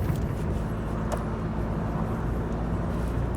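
A Toyota Revo Cab pickup with automatic transmission cruising at moderate legal speed, its engine and road noise forming a steady low rumble heard from inside the cab with no talk.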